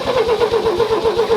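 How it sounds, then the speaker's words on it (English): A Ford Mk1 Transit van left untouched for years cranks over with a loud, rapid, rhythmic starter churn, heard close and alone through the whole short burst. "give the throttle a little bit of a pump and turn the key"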